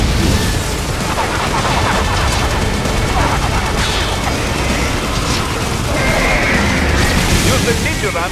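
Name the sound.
plasma cannon firing in Metal Gear Rising Revengeance video game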